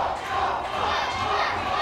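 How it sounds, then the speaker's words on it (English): Wrestling crowd at an indie pro wrestling show chanting in unison, a dense, loud wall of massed voices filling the whole clip. "But the crowd here is chanting Mo."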